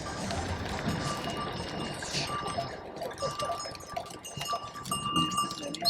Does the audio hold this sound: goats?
yes